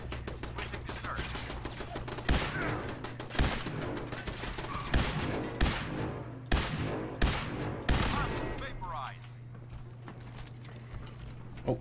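An automated turret in the Fallout 4 video game fires sharp, loud gunshot bursts at irregular intervals over roughly six seconds, over a constant background hum, before the shooting stops.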